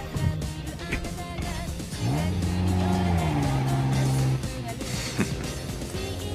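A car in an Initial D anime race scene drives with a sustained engine drone that rises and falls in pitch mid-scene, amid busy background sound and music-like layers.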